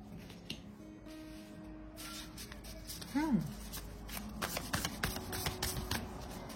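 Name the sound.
tarot cards being shuffled and drawn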